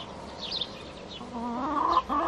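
Chickens on a small backyard flock of about a dozen hens with two roosters, clucking and murmuring in short rising calls, close and fairly loud with no talking over them.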